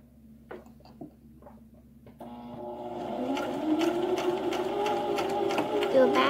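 A sewing machine stitching a small crossbody bag starts up after a few soft clicks and settles into a steady, close mechanical whir that continues to the end.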